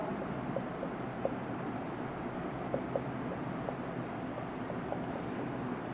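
Pen or chalk marks scratch out a written point in a classroom, faint short strokes over steady room hiss.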